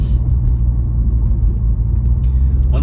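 A Volkswagen Jetta MK7 with muffler and resonator removed rumbles deep and loud from inside while driving, a steady low exhaust drone.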